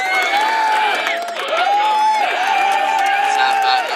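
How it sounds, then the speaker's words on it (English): Podcast studio crowd cheering and whooping with some applause, loud and sustained, with raised voices carrying over the noise. "Ladies and gentlemen, can I get some applause?"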